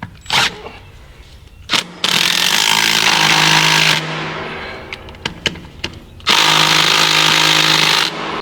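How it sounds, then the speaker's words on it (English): Drill boring into concrete to set Tapcon screws during a septic tank repair, loud grinding hammering in two long runs with short bursts and clunks between them. "So I already have a drill bit and everything for the size that I use, so we'll get that done and get those in."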